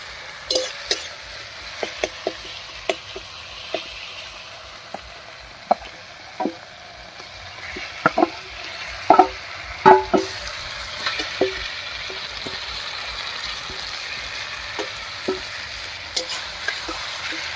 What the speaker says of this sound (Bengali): মেখে রাখা মাছটা দিয়ে একটু নাড়িয়ে নিলাম